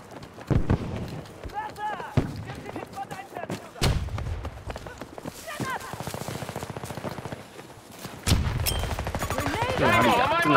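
Gunshots in a shooter video game, sharp sniper-style cracks spaced several seconds apart amid steady in-game noise, while people talk and shout excitedly over the action.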